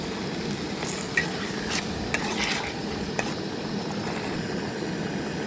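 Potatoes and peas sizzle and bubble in a pan after water is added, a steady frying hiss with a few soft clinks of a spoon against the pan.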